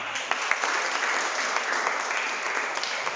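A seminar audience in West Bengal bursts into sustained applause, many hands clapping densely and evenly at close range for the full stretch without pause.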